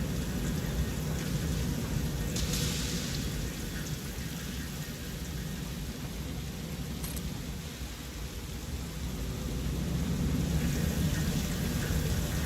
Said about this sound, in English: It has now been raining the entire time since I've restarted the game.